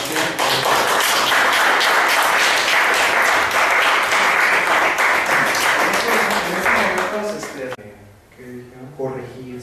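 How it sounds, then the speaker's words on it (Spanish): An audience at a philosophy café session gives a closing round of applause, dense and loud for about eight seconds before it stops abruptly and a voice speaks. "Vamos a darnos un aplauso a la sesión."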